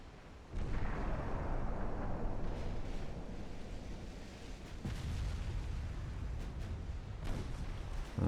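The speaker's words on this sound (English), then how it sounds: "See, I can score torpedo detonation hits on this guy" Heavy rumbling detonations from torpedo hits in the naval warfare game Ultimate Admiral Dreadnoughts, a broad sustained roar with a sharp new blast near five seconds and another near the end, no talking.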